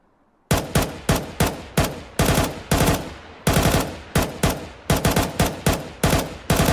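Galil AR rifle firing in the CS2 shooter game: loud, close bursts of rapid automatic shots in quick succession, separated by short pauses, with no talking.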